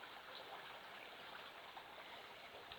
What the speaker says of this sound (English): if you can hear running water, that's exactly what it is. It's obviously the river is flowing pretty fast today